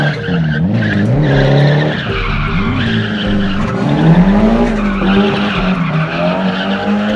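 Cars drifting at a wild drifting BBQ, a Mustang and a 300Z among them, tires squealing loudly in long wavering howls over roaring engines, continuous and close.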